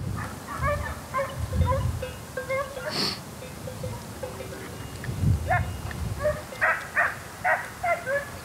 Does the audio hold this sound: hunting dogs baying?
yes